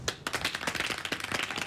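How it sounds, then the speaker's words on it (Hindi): Lively clapping fills a movie scene, dense overlapping hand claps from a group, fairly close and steady for the whole stretch. "तालियां।"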